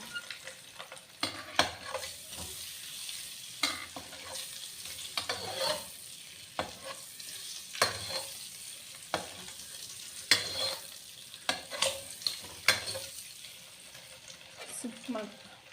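Turmeric and chili powder fry on a low flame, a soft continuous sizzle broken by repeated scraping stirs at an uneven rhythm, close by with no talk.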